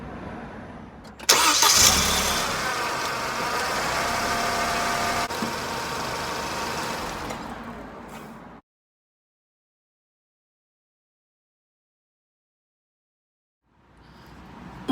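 A Mercedes SLK R170 engine starts with a sudden burst and settles into a steady close idle for several seconds before cutting off into silence, faintly returning near the end.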